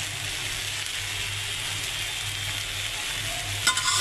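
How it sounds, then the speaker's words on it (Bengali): Taro stolons (loti) fry in hot oil, a soft steady sizzle with a low hum beneath and a brief clatter of stirring near the end, no voices. "তারপরে এখন আমি তেলে ভেজে নিচ্ছি"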